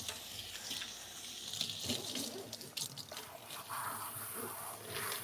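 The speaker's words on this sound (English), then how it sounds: "Let me rinse you off." Water from a salon sink sprayer runs steadily while hair is rinsed after shampooing, a close, hissing splash that shifts slightly as the stream moves, with no talking.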